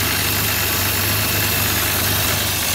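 Jaguar Mark X 420G with a 4.2 straight six idling, a steady low rumbling hum with constant broadband noise over it, close and loud with no talking.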